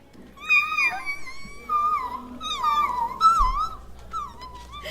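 A voice imitates the high, trembling whimper of Fluttershy, the timid pegasus from My Little Pony, in several wavering, pitch-bending whines that come close and fairly loud, with short pauses between them.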